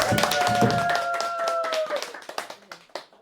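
An audience at a Korean pansori lecture-concert claps: dense, close applause with a faint sustained tone early on, thinning after two seconds into a few scattered, fading claps.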